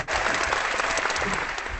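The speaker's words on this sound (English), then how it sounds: "There was a lot of applause there." Audience applause from a live crowd, a short burst of dense, steady clapping that starts abruptly and stays loud throughout.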